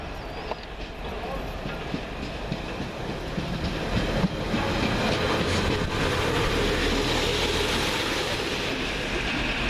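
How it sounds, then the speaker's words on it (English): A Northern Rail Class 142 train, unit 142087, rolls past on the Scunthorpe to Lincoln Central service with a steady rumble and rhythmic clatter that swells and holds for about ten seconds. "Next up, the 1204 Northern Rail service from Scunthorpe to Lincoln Central. 142087."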